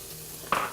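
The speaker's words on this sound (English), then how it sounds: "in a little bit of olive oil, we're going to fry a little bit of onion, just normal onion, white onion" Onion and garlic hitting hot olive oil in a pan, a quiet kitchen hush that breaks into a sudden sizzle halfway through and keeps crackling steadily to the end.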